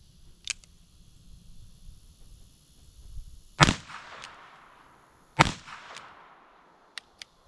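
Shots from a Smith & Wesson 648-2 .22 Magnum revolver with an action job, two sharp loud cracks a couple of seconds apart, each with a ringing tail, then two lighter snaps, set against quiet outdoor background.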